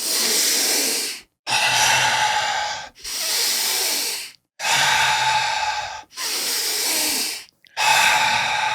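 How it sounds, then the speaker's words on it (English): A group breathes deeply in through the nose and out through the mouth during a breathwork session, with loud, close, airy rushes of breath in long, steady waves separated by brief silent pauses. "we'll breathe in through our nose and this time out through our mouth, just to move a lot of air"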